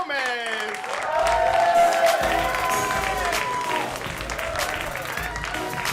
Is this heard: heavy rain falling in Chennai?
no